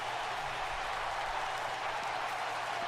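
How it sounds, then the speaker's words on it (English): A wrestling audience at an OCW RIOT main event cheers and applauds in a steady, loud roar of crowd noise that fills the whole stretch without a break. "this crowd is fired up"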